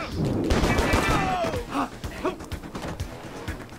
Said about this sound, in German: ich treff nichts mit dem Sturmgewehr